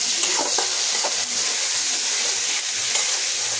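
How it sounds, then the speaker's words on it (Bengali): Garlic and onion frying in a pan, a loud, close, continuous sizzle with light crackling and occasional stirring scrapes, no voices. "রসুন আর পেঁয়াজ খুব সুন্দর করে দিয়ে দিলাম"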